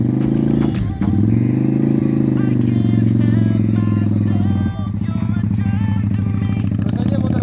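A manual-clutch motorcycle runs loud and close, its engine holding a steady throbbing drone. Two brief dips mark the gear changes, and there is a faint rattle of mechanical clatter throughout.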